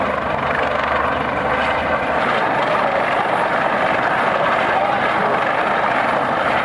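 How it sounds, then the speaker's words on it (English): Coast Guard helicopter hovering over the ocean beside the cruise ship Carnival Sensation during a medical rescue, a loud, continuous rotor roar and wash with no gaps. "Coast Guard helicopter rescue in the middle of the ocean from Carnival Sensation ship"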